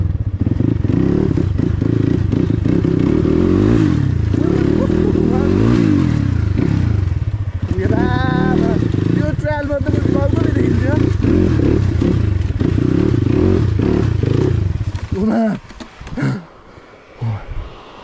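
A motorcycle riding over a rough, bumpy track, its engine droning loudly and steadily close by with rattles and knocks, while someone talks over it before the engine drops away near the end.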